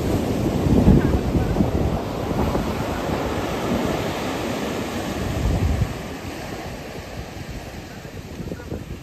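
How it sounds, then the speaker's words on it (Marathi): Indian Ocean surf at Dhanushkodi on India's southern tip: waves break and wash steadily onshore, with gusty wind buffeting the microphone and a slight easing toward the end. "हा तुम्ही समुद्र बघताय तो हा हिंदी महासागर समुद्र आहे"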